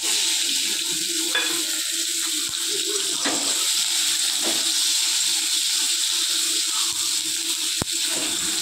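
Chopped onion and a little garlic frying in hot oil for a pointed gourd bharta make a dense, even sizzle throughout, with a few sharp clicks from the pan.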